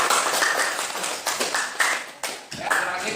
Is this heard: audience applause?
yes